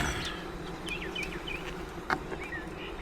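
Honey bees swarming over the frames of an open, busy hive under inspection, a low hum with small high buzzing passes from individual bees flying close by.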